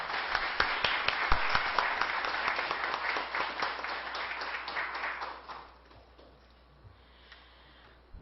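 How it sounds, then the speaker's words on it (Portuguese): Audience applause at a Setembro Amarelo life-valuing event in Lajes, a dense burst of clapping that fades out about two thirds of the way through, leaving a quiet room. "Então, uma salva de palmas para vocês."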